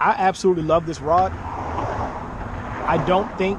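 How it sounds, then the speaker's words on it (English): A car on a busy country road rushes past as a broad, steady whoosh underneath someone talking close by on a winter fishing outing. "sorry for the car noise"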